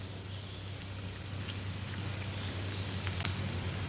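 Finely chopped onion and garlic sizzle in hot oil with a soft, steady crackle and occasional brighter pops, low and close, with a constant hum beneath and no talking.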